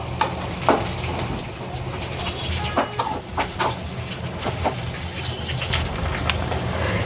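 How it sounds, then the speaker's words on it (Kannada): Tomatoes frying in a pan over onions for an avarekalu (field bean) gravy, a steady close sizzle with scattered crackles and pops running throughout, no voices. "ಇವಾಗ ಇದಕ್ಕೆ ಟೊಮೊಟೊ ಹಾಕಿ ಫ್ರೈ ಮಾಡ್ಕೊತಾ ಇದ್ದೀನಿ"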